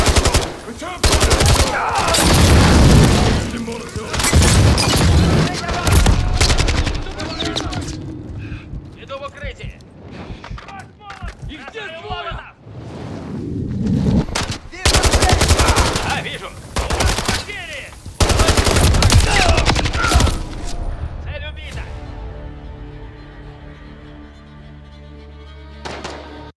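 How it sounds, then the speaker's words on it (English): Call of Duty: Modern Warfare III gunfight, with loud bursts of automatic and single-shot gunfire and explosive thuds in rapid, irregular volleys, mixed with shouted voices. "I've got Makarov! Return fire!"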